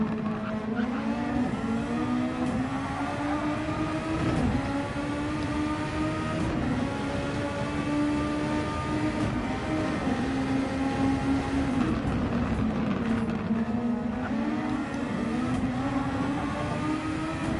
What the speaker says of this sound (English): As you have a moment to enjoy the sounds of the engines there, Bondimus chasing after Gasman.